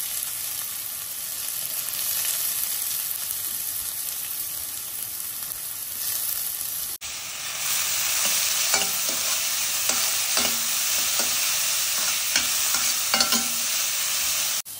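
Chopped onions drop into a pan of hot oil with fennel seeds, and a bright, loud sizzle rises and stays steady while stirring scrapes sound in intermittent strokes close by.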